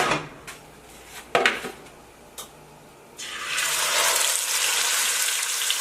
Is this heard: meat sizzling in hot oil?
yes